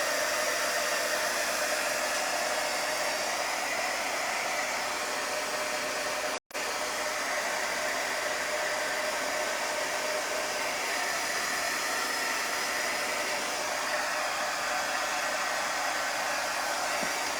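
A hair dryer blows steadily on painted fabric sneakers, giving a loud, close, continuous whooshing roar that cuts out for an instant and then resumes.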